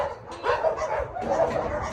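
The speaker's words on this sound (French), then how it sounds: "regardez ça, quel amour de chien" A dog at an animal shelter gives soft, repeated yips and barks mixed with whimpering, close by and fairly steady throughout, with no talking.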